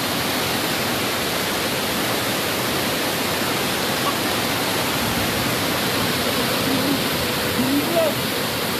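A tiered, multi-level waterfall at Ussu, East Luwu, roars with a dense, steady rush of falling water, loud and close throughout, with faint voices barely emerging near the end.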